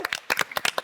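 Short, sharp clapping for a contestant on a show, a quick run of close, distinct hand claps at an uneven rhythm, lasting under a second.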